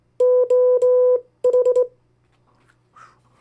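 Morse code tones spelling US state abbreviations, sent as steady beeps in two quick bursts of dits and dahs, clear and close over a faint hum, then near silence.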